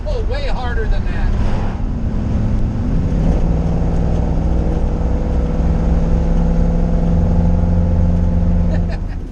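A 1968 Ford F100 truck with a Coyote V8 engine revs and pulls hard, a loud, close, sustained engine roar rising in pitch, then easing off near the end, with voices briefly heard at the start.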